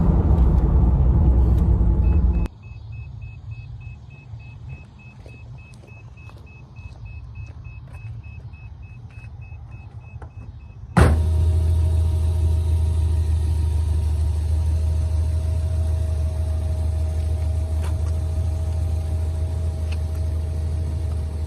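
A Toyota Celica with a freshly replaced CV axle runs steadily, its engine humming low and continuous. A quieter stretch gives way to a louder, sustained drone as the car pulls away.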